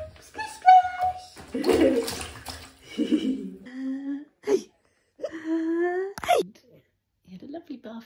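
A nine-month-old baby being bathed in a bathtub, with soft water splashes beneath an adult's close, sing-song talk and the baby's babbling and whimpers throughout.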